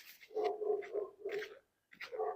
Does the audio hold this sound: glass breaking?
no